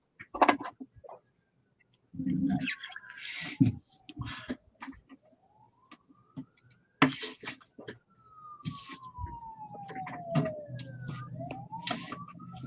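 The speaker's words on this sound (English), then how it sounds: "Hear a siren." A distant siren wails in slow rising and falling sweeps, faint against intermittent nearby knocks and rustling noises.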